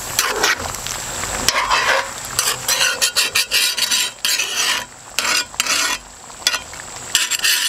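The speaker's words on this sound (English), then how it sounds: "I'm going to scrape up the bits at the bottom" Bits at the bottom of a pot of Trinidad curry duck being scraped up, with repeated loud rasping strokes and short pauses over a bubbling sizzle, close and without voices.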